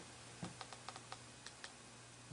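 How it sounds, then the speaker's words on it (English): Typing on a Cideko Air Keyboard: about nine light, separate key clicks at an uneven pace, close and fairly quiet, with no talking. "I'm typing on the keyboard here."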